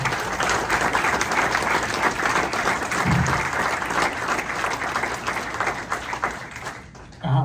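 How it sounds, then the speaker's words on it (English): An audience claps steadily in sustained applause, a dense wash of many hands filling the room throughout. "I think you also all deserve a round of applause. So please applause for yourself."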